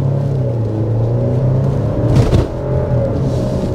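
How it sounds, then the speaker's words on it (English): A 2024 Alfa Romeo Stelvio's 2-liter turbo four-cylinder pulls hard under acceleration, a steady close engine drone and road rumble swelling briefly midway before settling, with no talk over it. "certainly a very impressive 2-liter turbo four-cylinder with this base setup"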